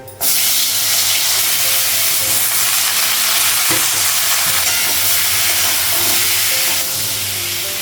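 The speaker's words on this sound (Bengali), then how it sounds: "পটল আর আলুটা একটু ভেজে নিই।" Pointed gourd and potato frying in oil in a pan on a gas stove in a home kitchen, a steady loud sizzle running throughout without talk.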